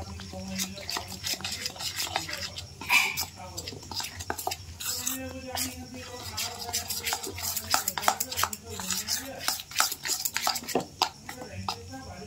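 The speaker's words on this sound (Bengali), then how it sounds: "এটা ভালো করে আমি একটু ফেটে নিচ্ছি" A whisk clatters quickly against a bowl as chicken pakora batter with egg is beaten, producing rapid repeated metallic scraping and tapping, with someone talking over it at points.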